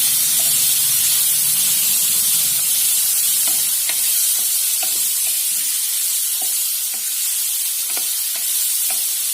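Cauliflower pieces fry in hot oil with spice masala for a pickle-style achari dish, a steady loud sizzle and hiss broken by repeated soft scrapes and clicks of stirring.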